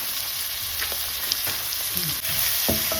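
Shallots and salt fry in a pan for a beef dish and are stirred now and then. A steady close sizzle runs throughout, with scraping spoon strokes breaking through near the end.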